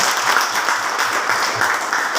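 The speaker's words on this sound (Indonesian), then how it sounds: "Mari kita tepuk tangan." Students in a classroom clap together in steady, fast applause, a continuous dense patter of many hands held at an even level for a couple of seconds.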